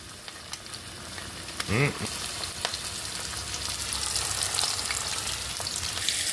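Chicken pieces for cashew chicken deep-frying in hot oil make a steady close sizzle with scattered pops and crackles, broken by a brief clatter near the start.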